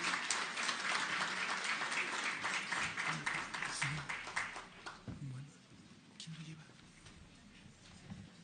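Audience applause greets a panel of doctors, a busy, moderately loud clapping that thins out after about five seconds, giving way to quieter room noise with voices talking.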